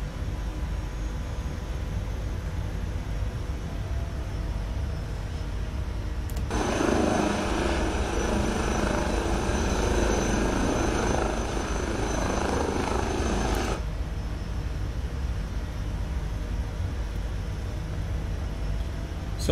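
An Airbus H160 helicopter taxis on an airport taxiway with a steady turbine whine and rotor drone. Midway the roar grows suddenly louder and brighter for several seconds, then falls back to the steadier hum. No speech is heard.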